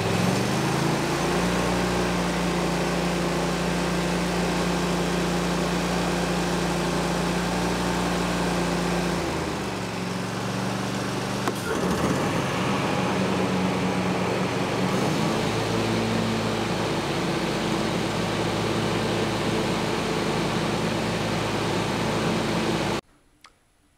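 A Bad Boy Maverick riding mower engine runs steadily with its blade spinning, a loud continuous drone with slight pitch dips around the middle, before cutting off abruptly at the end.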